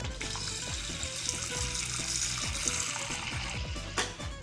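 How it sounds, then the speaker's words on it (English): Water runs from a tap into a container holding fenugreek seeds for soaking, a steady trickling pour heard close up with no one talking over it. "fill this with water."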